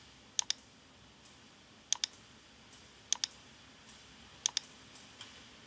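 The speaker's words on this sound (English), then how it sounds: "To orbit around, you left click and you move the mouse." Light computer mouse clicks come in small pairs and bursts every second or so while a 3D surface is being orbited. They are crisp and close over a quiet background.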